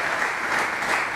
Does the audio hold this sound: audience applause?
yes